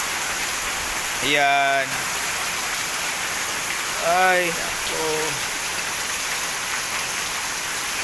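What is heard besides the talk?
heavy rain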